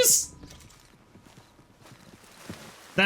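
A horse in the Red Dead Redemption II video game stamps its hooves close by in a few soft steps, with a sharp neigh at the start and a louder burst at the end.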